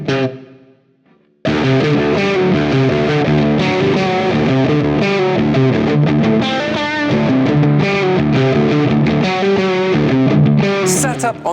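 A GAK electric guitar played through high-gain distortion, loud and saturated, with a brief soft lead-in before chugging, sustained chords and riffs ring out steadily and alone.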